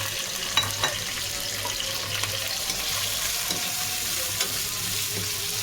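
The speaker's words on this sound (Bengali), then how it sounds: "এখন একটু ভাজা হবে," Bay leaf, crushed onion, ginger and garlic with slit green chillies fry in oil, giving an even, continuous sizzle with light stirring taps and no talking.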